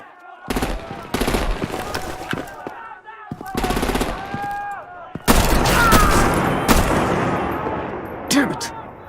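Gunfire and artillery in the Telltale Batman game: sharp bursts of rapid automatic fire separated by short pauses, then a sustained, heavier barrage of shots and blasts, loud and close.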